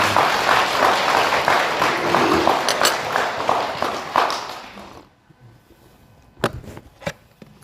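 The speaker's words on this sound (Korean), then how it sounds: "큰 박수 한번 보내주시기 바랍니다" Audience applause at a Buddhist regular dharma service of the Cheontae order, a steady round of clapping that fades out after about five seconds, followed by a few isolated thumps.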